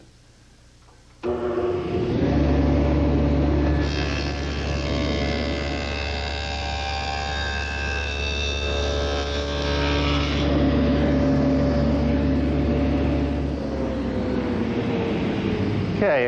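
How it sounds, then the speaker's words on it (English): Table saw fitted with a dado head cutter spinning up and cutting a dado in a wooden gusset, a loud steady motor whine with sustained tonal hum that rises as the blade engages and holds throughout. "I've set up my table saw with my dado head cutter for a 5 8 width and a quarter inch depth, and I'll make the dado in the gusset"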